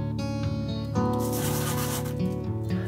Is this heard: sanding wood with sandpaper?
yes